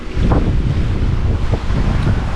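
Steady wind rushes over a sailboat at sea in 16 to 17 knot wind, with broadband buffeting and faint water wash, loud and continuous throughout with no talk.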